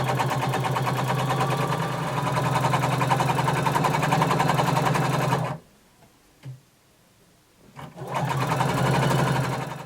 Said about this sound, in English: we're going to sew 5/8 of an inch turned over all the way around